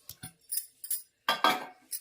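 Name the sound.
mixing mutton with yogurt and spices for biryani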